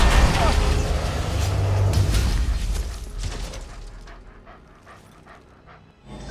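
A dog pants rapidly and loudly in the Marvel's Avengers video game, with game effects and a low rumble under it. The panting thins out into fainter breaths toward the end.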